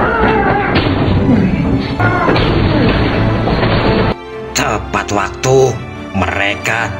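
A loud crash and boom of a truck explosion in a film scene, dense and rumbling with music and effects, followed by scattered impacts and voices.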